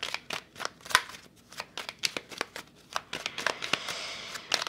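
Tarot cards being shuffled by hand, a steady run of crisp riffling flutters and soft slaps repeating close up, with no talking.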